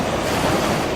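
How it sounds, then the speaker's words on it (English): Surf on the beach at Monte Gordo in the Algarve gives a steady broadband wash of waves, with wind buffeting the microphone, continuous and fairly loud for a brief moment. "as we walk along the beach at some"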